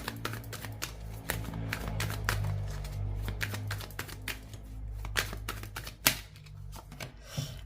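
Tarot cards are shuffled and drawn close up, producing dense rapid riffling clicks and flicks with a few sharper taps as cards are laid down, over a low hum.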